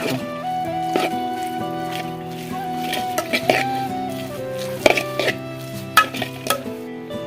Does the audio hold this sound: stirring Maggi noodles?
yes